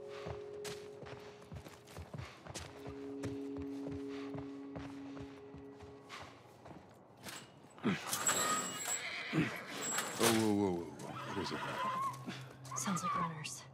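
Horse whinnying in The Last of Us Part I on PC, a loud burst of neighing rising midway through amid game ambience, hoof and movement sounds, with speech heard earlier.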